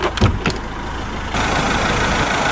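A 2015 Ford Ranger's 2.2-litre Duratorq TDCi turbo diesel idles nearby with a steady clatter, a few thumps at the start, and a sudden rise in loudness midway as the engine sound becomes more exposed.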